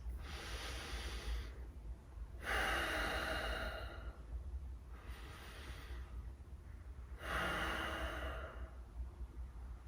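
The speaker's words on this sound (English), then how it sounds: "So it is breathing through your nose. It's like this." Slow, deep belly breaths drawn in and pushed out through the nose, three long airy cycles of inhale and exhale, close and steady, with no talking.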